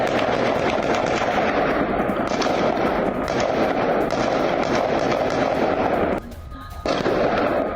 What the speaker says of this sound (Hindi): हेब्रोन इलाके में आमने सामने की इस वक्त गन फाइट हो रही है